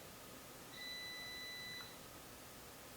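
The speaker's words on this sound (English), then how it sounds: "Ooh, that's the air fryer." A kitchen air fryer gives a single faint electronic beep lasting about a second, a clear steady tone over quiet room hiss.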